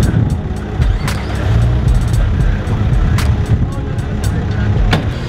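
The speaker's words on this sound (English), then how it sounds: "So that noise you hear in Alpha Jeep is a supercharger" A supercharged Jeep on an Easter Jeep Safari trail run near Moab, Utah, its engine and supercharger rumbling steadily under wind noise, with people talking nearby.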